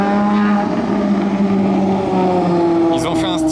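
Ferrari race cars built in 488 Challenge and 599XX style idle and rev at the Monaco Historic Grand Prix, a loud close engine drone with rising harmonic whine, someone talking over it throughout.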